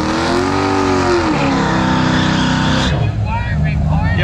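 A Lucid Air Sapphire electric car performs a burnout at a quarter-mile drag strip, producing a loud, sustained high-pitched motor whine and tire noise that cuts off abruptly near the end, with a commentator talking over it.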